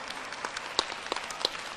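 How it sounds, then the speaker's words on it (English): An audience applauds ten radiologists with a short burst of hand clapping, a dense patter of claps with a few sharper hits, moderately loud and without talk. "let's get a round of applause for these 10 radiologists"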